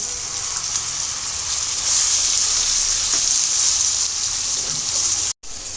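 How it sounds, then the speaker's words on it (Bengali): Spices, turmeric, chili powder, salt and cubed tomato frying in oil for beef bhuna, a loud steady sizzle close up, continuous hissing that cuts out briefly near the end. "মশলা কিছুক্ষণ ভাজার পর যখন তেল উপরে উঠে আসবে"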